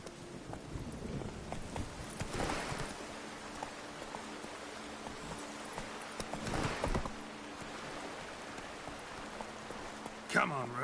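Roach, the horse in The Witcher 3, gallops with a steady clip-clop of hooves and a wet, rain-like patter, heard moderately close through occasional whooshes, with talk at points.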